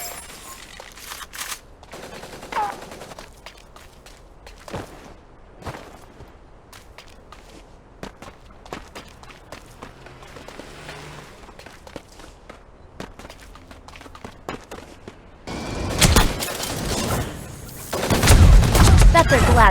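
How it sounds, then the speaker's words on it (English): Gunfire in the mecha shooter game Super Mecha Champions: scattered quiet footsteps and distant pops give way to a loud, dense burst of shooting near the end. "Shots heard!"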